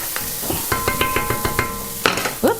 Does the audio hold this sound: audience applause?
no